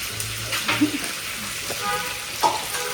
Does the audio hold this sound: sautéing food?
yes